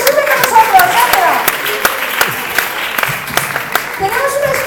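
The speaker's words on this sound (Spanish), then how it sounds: "¡Sandra, un fuerte aplauso!" Audience at an improv comedy show clapping for a volunteer called up on stage, sharp scattered claps close by over a lively crowd, with voices calling out over it.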